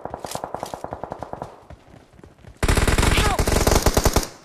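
Gunfire on the Livik map in PUBG, first a rhythmic burst of rapid shots at moderate volume, then a louder, denser spray of automatic fire that overlaps at close range.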